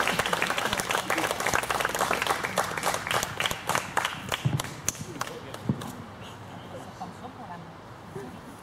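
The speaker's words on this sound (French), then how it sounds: "On l'applaudit, s'il vous plaît." Wedding guests break into applause: a dense burst of many hands clapping that stays loud for several seconds, then thins out and fades to scattered claps over a murmuring room.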